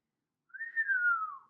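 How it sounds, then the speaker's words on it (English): A single sustained whistle from a person, a smooth, slightly falling tone lasting about a second, clear and alone after a moment of silence. "She whistles when she sees the table."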